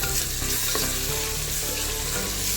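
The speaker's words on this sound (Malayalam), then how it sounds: "ഇതിലേക്കൊരു 3 ചെറിയ തക്കാളി അത് കട്ട് ചെയ്തിലേക്ക് ചേർത്ത് നന്നായിട്ട് വഴറ്റാം." Chopped tomatoes sauté in a pan for a chicken curry, giving a steady, loud sizzle and frying hiss with stirring scrapes throughout, no voices.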